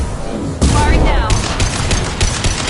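Rapid gunfire crackles in the video game Mass Effect 2, dense overlapping bursts and shots hammering continuously after a brief quieter opening, with voices shouting amid the fire.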